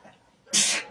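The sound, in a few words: sneeze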